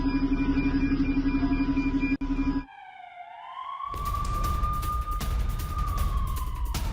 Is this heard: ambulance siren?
yes